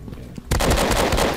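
Sustained burst of rapid automatic gunfire from a gun in the horror video game Amnesia, set in a subway, erupting loud and dense after a quiet lead-in and continuing without letup.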